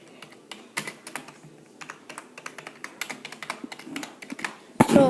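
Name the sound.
typing on a Blackweb LED computer keyboard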